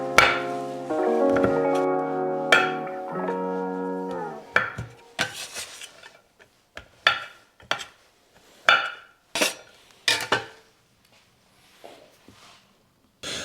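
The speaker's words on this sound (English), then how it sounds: "Once it's cooled, I'm going to chop it up into chunks and save it for later." Cooled chocolate is chopped into chunks with a knife, heard as a run of sharp, separate chops and knocks on a board. They come after a sustained tonal passage, start irregular, then settle into a steady rhythm before fading out.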